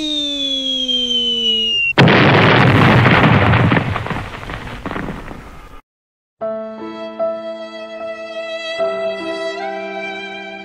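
Explosion in the video game GTA V: a sudden loud blast that roars and decays for several seconds, followed by a short silence and then bright game music tones.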